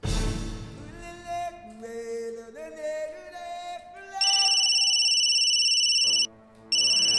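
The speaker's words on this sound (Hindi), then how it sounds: "खबरी सर का फोन।" A phone rings with a bright repeating electronic tone, loud and steady, cutting in after a stretch of dramatic orchestral score and briefly pausing before resuming.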